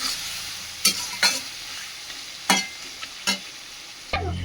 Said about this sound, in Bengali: পেঁয়াজটা লাল করে ভেজে নিয়েছি।